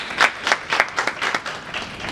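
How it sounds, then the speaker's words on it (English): An audience applauds at a spring awards banquet. Loud, ragged bursts of clapping rise and fall in uneven waves for a couple of seconds. "give yourselves a round of applause for that"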